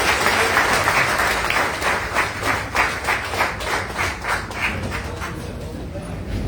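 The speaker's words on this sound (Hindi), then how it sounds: "जोरदार तालियां" Audience applause at a public gathering in India, a dense steady wash of many hands clapping, loud and close, with faint rhythmic clapping swells, tapering slightly toward the end.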